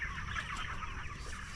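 Chickens at a farm shelter cluck in a busy, close chorus during a brief moment.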